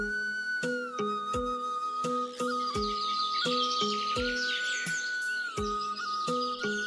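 Birds chirping on a sunny morning, with steady bright tweets and calls, while a repeating rhythmic pulse runs under them throughout, clear and close.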